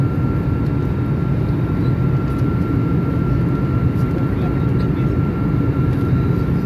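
Inside an airplane cabin in flight during turbulence, a loud, steady engine and airflow roar drones on without a break, with a constant hum running underneath.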